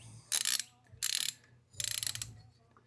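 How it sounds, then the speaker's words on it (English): A strap wrench works a motorcycle oil filter on a 2023 Harley-Davidson Road Glide during a service, making three close, quiet bursts of rapid clicking ratchet sounds with short pauses between them. "Put the strap wrench right over the filter,"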